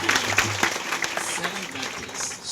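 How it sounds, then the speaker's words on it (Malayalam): A congregation at a church sermon claps hands in a dense burst while the preacher keeps speaking over the clapping. "जोरदार ताली बजाइए"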